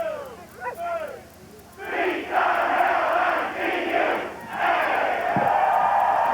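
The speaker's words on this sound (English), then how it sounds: "That's one of the most popular yells around here." A large Aggie crowd at Texas A&M yell practice bursts into a loud roaring yell, sustained shouting in two long waves after a few scattered calls, with a brief sharp thump near the end.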